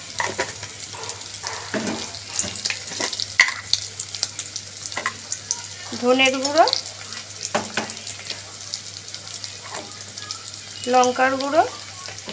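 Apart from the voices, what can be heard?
onion, ginger, garlic, tomato and spices frying in pan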